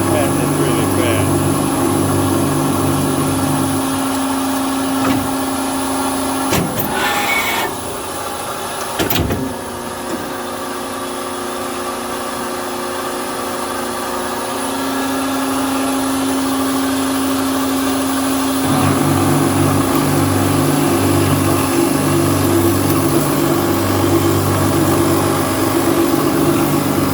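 A rebuilt Tsune TK5c-101GL cold saw, serial 1588 from 2000, runs slowly through a cut on a new blade being broken in, with flood coolant, giving a steady motor hum and grinding drone with a few sharp knocks along the way.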